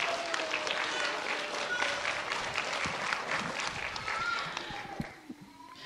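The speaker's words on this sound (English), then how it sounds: "So again, a round of applause." A crowd claps steadily in sustained applause at a senior graduation ceremony, broad and fairly loud, tapering off near the end.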